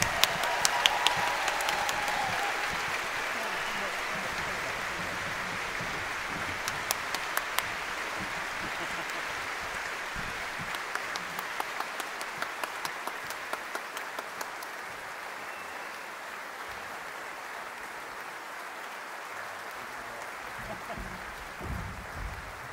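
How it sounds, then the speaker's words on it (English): Audience applause after a request to honour young performers, steady broadband clapping that continues for the whole stretch and slowly thins toward the end, with a few louder claps and faint murmurs under it. "could I just ask you to make one massive round of applause for all these young people"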